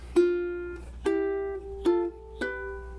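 A ukulele plucks four ringing two-note chords in a steady descending pattern, each struck cleanly and left to ring, played alone.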